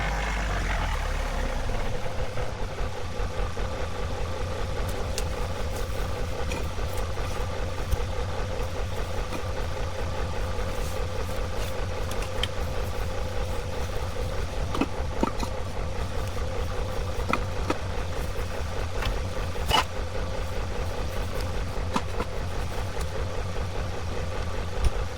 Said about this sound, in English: So let's move the tractor.